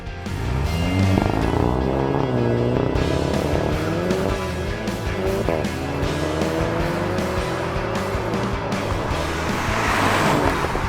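A Volkswagen Golf GTI with 245 horsepower launches hard from a standstill on a track, its engine note climbing steadily through the gears, loud and continuous right up to 100 km/h.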